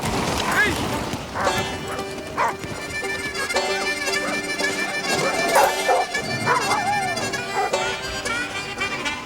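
Team of sled dogs in Alaska barking and yipping close by, with excited overlapping calls and whines in a busy, continuous chorus.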